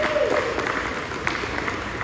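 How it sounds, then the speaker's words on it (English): Audience applause during a tribute at Porchfest Raleigh, a steady, dense wash of clapping lasting about two seconds with faint crowd murmur underneath. "Now that deserves another round of applause."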